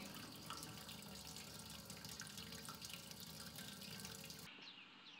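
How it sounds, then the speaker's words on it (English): During a homebrew mash, water is pumped and sprinkled over the grains, making a steady hiss of running, splashing water that stays level and then drops off sharply near the end; no talking. "at the same time we are pumping a little bit more water, kind of sprinkling it in over the top"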